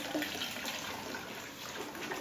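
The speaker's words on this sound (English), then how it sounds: "I'm gonna go ahead and flush it again." A household toilet flushes during bowl cleaning with gel cleaner, a close, continuous rush of churning water that stays loud and steady throughout.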